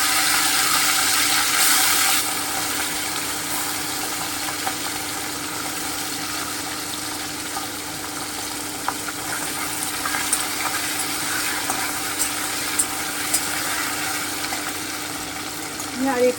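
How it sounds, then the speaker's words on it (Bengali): Piyali fish pieces lightly frying in a pan, a continuous hissing sizzle that swells briefly at the start then holds steady for a long stretch, with occasional small pops and clicks, no talk. "এবারে আমি মাছগুলো ছেড়ে দিচ্ছি। আমি একটু হালকা করে ভাজবো,"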